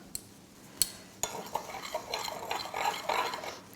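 A spoon stirs bicarb into milk: a couple of sharp clinks against the container, then a continuous scraping, swirling rattle that grows a little louder toward the end.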